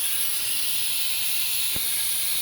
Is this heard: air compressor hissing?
yes